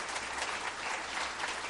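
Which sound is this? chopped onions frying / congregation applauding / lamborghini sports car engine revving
congregation applauding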